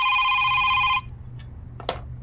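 A telephone rings with a steady electronic warble for about a second, then cuts off, followed by a couple of faint clicks and a brief rustle against low background hum.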